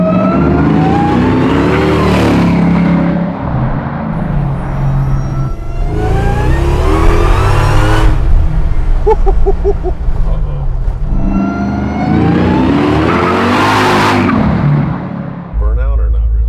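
Hellcat-swapped Chevy C10 pickup with 745 hp roaring through repeated burnout bursts, loud engine surges separated by brief dips, with tire squeal and people talking between revs.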